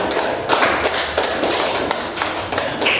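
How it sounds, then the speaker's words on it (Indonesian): Classroom applause for a student group in a sixth-grade primary school lesson, a steady patter of many hands clapping for about three seconds, dense and fairly close. "Tepuk tangan untuk kelompok 3"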